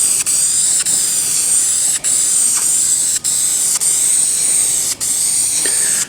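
Primer sprayed in a medium coat over car dash or console trim, a steady loud hiss broken by brief pauses about every second between passes, with no talking.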